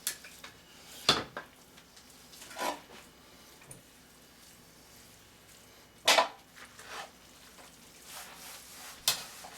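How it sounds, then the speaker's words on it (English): A kitchen knife works through spring roll filling in a bowl, giving several sharp metallic clinks and scrapes against the dish separated by quieter gaps, close and fairly soft with no talking. "Coming with a knife here."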